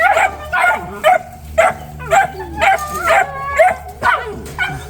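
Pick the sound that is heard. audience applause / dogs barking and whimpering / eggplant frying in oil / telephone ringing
dogs barking and whimpering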